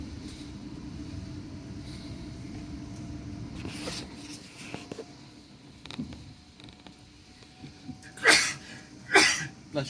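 A passenger sneezes twice aboard a South Western Railway train between Twickenham and Feltham, two sharp bursts near the end over a steady low rumble of the moving carriage with occasional creaks.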